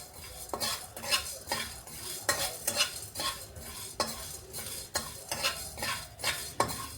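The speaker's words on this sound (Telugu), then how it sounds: "అందుకే ఇప్పుడు ఈ కర్రీ వరకు వేగిస్తున్నానండి" Spices roasting in a pan for a Telugu amaranth-leaf curry as a utensil scrapes the metal in steady strokes, roughly twice a second, over a faint sizzle, close up with no voices.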